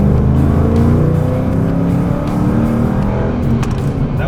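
A 2008 Ford Mustang Bullitt Edition V8 roars under acceleration, loud and close, its deep engine note rising and swelling through a strong pull with no talk over it.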